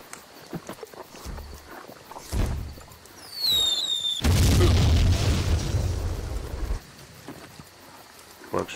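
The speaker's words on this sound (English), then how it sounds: "So here comes the artillery." Mortar artillery barrage in the video game Jagged Alliance 2 Gold: a single boom, then a rising whistle and a heavy, sustained rumbling blast lasting several seconds, loud and close, fading into quieter ambience.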